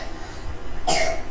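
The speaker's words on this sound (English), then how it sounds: "Oh, everybody is coughing." One sharp, close cough from a person breaks a quiet, hissy room-tone background near the end.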